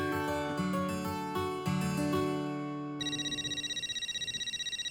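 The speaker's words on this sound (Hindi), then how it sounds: "हाथी भाई का फोन है।" A telephone rings with a steady electronic trill, fairly loud and close, following a brief burst of music before it.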